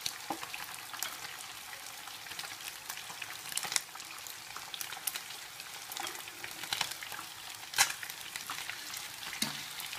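Oil sizzles and crackles steadily as frogs deep fry over high heat, with occasional louder pops and spatters.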